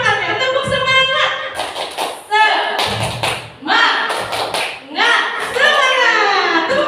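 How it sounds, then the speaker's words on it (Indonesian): A seated audience at a school teachers' positive-culture dissemination session does a rhythmic spirit clap, loud patterned bursts of group clapping with voices chanting along and gaps between rounds. "Tepuk semangat."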